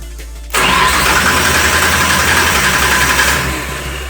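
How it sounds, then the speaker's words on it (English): A Nissan Skyline RB25 engine catches after a short crank, then holds a loud, steady rising rev before easing down toward idle near the end. "Start the engine. Well, I've turn the engine over and you'll see the RPM go up."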